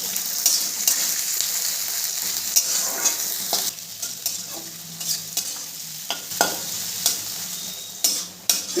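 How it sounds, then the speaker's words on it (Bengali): Onions fry in a pan over a medium flame, a continuous close sizzle broken by repeated scraping and stirring clicks of a utensil against the pan, with no talking. "পেঁয়াজটাকে মিডিয়াম ফ্লেমে ভেজে নেব"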